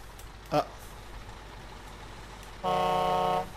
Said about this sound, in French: Ah non, là, c'est Klaxon Charlie.